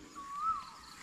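A bird call rises and falls once in a short whistled phrase, faint and distant, over a cold, foggy morning in the countryside.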